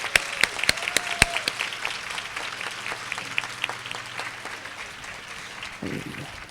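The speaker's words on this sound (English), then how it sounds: "give a round of applause to our chair" Forum audience at a University System of Maryland women's event claps for the chair, scattered sharp claps building into steady applause that fades toward the end, with a voice briefly audible at the close.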